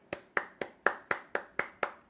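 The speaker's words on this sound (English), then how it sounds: "the whole audience claps" A small audience claps in eight sharp, evenly spaced beats that ring out clearly with no talk over them, sounding more like rhythmic group claps than a sustained ovation.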